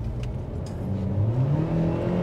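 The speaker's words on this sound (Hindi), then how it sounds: "ये इंजन की नॉइस है।" A used car's engine revs upward toward 6000 RPM, its pitch climbing steadily over a couple of seconds, close and fairly loud with no talking.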